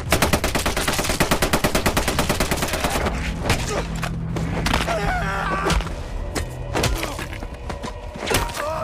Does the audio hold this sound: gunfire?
yes